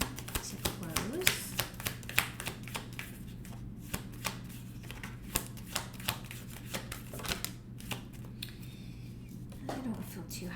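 Tarot advice cards shuffled by hand, a steady run of soft riffling taps and slaps going on for several seconds at close range, with faint background hum.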